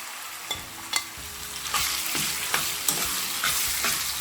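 Ground amla dropped into a pan of frying chilli and cumin, a steady close sizzle broken by repeated scraping clacks of a spoon stirring.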